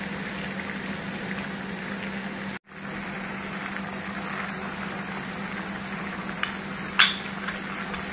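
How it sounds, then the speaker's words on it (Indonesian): Water boils in a cooking pot with bay leaves in it, making a steady, close bubbling hiss over a low hum. One brief gap breaks the sound, and a couple of small clinks follow near the end. "Nah, ini airnya sudah cukup mendidih."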